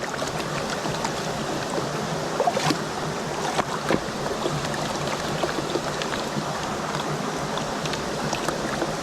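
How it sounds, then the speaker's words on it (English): Rushing creek water flows steadily and close by in a broad, continuous wash, with small splashes and trickles breaking through now and then and no voices. "I love the sound of this rushing water."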